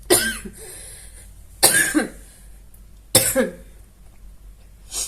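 Three harsh coughs, close and loud, spaced about a second and a half apart, followed by a faint breath at the end.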